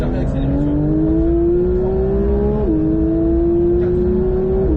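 A Porsche 911 992 GT3 accelerates on the Mettet circuit, heard from inside as a loud engine note climbing steadily, dipping once at a gear change and then rising again, while an instructor speaks over it.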